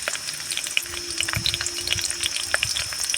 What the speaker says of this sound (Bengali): আর শুকনো লঙ্কাগুলো আমি একটু কেটে নিয়েছি আর দিয়ে দিচ্ছি রসুন খেতে করে নিয়েছি